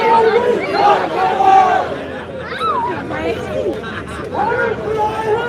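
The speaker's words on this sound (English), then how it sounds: "Decent sized crowd." A crowd of many voices at a rally in Waterford, Ireland, shouts "Whose country? Our country!" in rhythmic unison, rising and falling in repeated chant-like bursts, loud and close.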